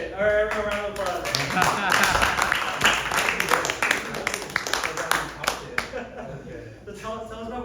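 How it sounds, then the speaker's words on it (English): An audience at an evening talk on AI-powered sales and marketing gives a round of applause, a burst of many hands clapping that rises and fades in the middle, with a voice speaking before and after. "All right, everyone, round of applause."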